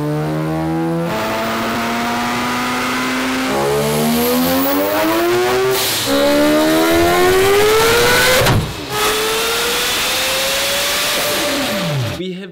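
Car engines rev hard on a dyno in long rising and falling sweeps, loud and close, with abrupt cuts between runs.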